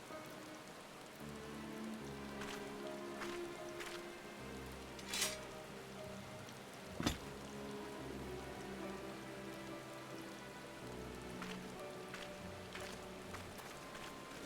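Steady rain falling on surfaces in the Final Fantasy XIV Heavensward game world, a continuous even patter throughout with background game music and a couple of brief sharp effects, no talking.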